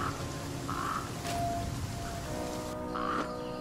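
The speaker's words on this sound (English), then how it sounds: "it's pouring rain" Steady pouring rain in the survival game The Flame in the Flood, a dense continuous hiss of falling water with a few brief tonal game sounds over it, no voices.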